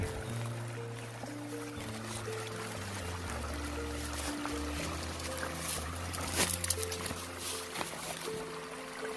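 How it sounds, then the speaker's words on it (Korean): Clear mountain water runs steadily down a slope in rural Jeongseon, Gangwon, a constant broadband rush with a brief louder splash partway through, heard close and without talk. "이 산에서 물이 이렇게 좋은 게 내려오네."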